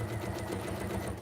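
A sewing machine stitches across a thick quilt-as-you-go quilt, a short, steady run of rapid mechanical whirring and thumping needle strokes, close and moderately loud, with no voices.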